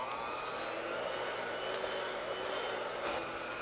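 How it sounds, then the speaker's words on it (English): An electric mixer on medium speed beats cake batter for a blueberry pecan coffee cake, a steady close whirring hum that holds evenly throughout. "Now I'm gonna mix it all up really well with my mixer."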